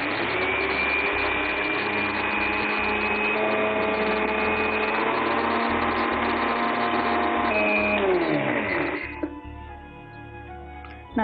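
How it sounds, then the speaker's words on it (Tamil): A mixer grinder jar grinds flattened rice (aval), a loud continuous motor whine with a steady rhythmic chopping pulse. It holds for about eight seconds, then winds down in pitch and slows near the end. "இப்போ நம்ம இந்த அவலை ஜார்ல போட்டு நல்லா அரைச்சி எடுத்துக்கலாம்"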